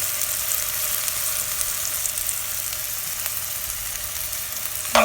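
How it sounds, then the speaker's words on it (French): A good spoonful of butter sizzling and frying in a pan over medium heat with chicken and onion, a steady close crackling hiss throughout with a brief scrape near the end. "Donc on remet tout ça sur feu moyen avec une bonne cuillère de beurre."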